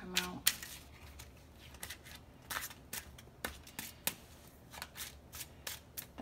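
Tarot cards shuffled by hand in a series of crisp riffling and slapping bursts, close and fairly soft, with pauses between them.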